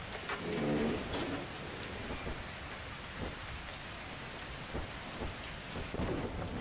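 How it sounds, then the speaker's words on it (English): Steady rain hiss in Metro Exodus with several low rumbles of thunder rolling through, fairly close, continuous and without any voices. "it started raining"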